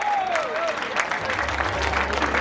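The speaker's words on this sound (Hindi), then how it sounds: "महिलाओं के लिए ताली बजाओ।" Audience applause at a public speech marking the inauguration of a gate, steady crowd clapping filling the whole stretch with a brief faint voice near the start.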